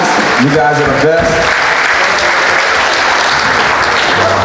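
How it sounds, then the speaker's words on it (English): Audience applause at a concert, a loud, sustained wash of clapping from a large crowd, with voices calling out over it near the start. "give them a big round of applause"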